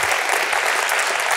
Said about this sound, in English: we should give a round of applause so far to our organisers